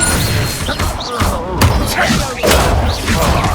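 Expelliarmus disarming spell in a Harry Potter video game: heavy thumps and slam-like impacts with whooshing magical effects, loud and close, over a busy dense background of game sound.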